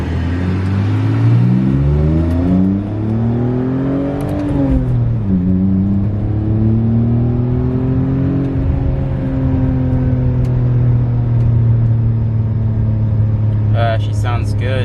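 A BMW engine pulling while driving, a close, loud rumble whose pitch climbs and falls through gear changes and then settles into a steady cruising drone, with a voice heard partway.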